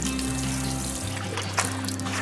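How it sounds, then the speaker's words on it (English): Water trickles and splashes onto soil where flower seeds have just been planted, a soft steady pour over a low hum that drops away partway through. "we're gonna go ahead and give it a pretty piece of water. We're gonna wet it."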